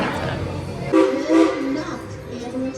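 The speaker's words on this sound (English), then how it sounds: "This is an authentic old-fashioned train that still runs with coal." An old-fashioned coal-fired steam train at Dollywood during a Smoky Mountain Christmas event, with whistle or horn blasts rising over the rumble of the rail cars and a voice talking nearby.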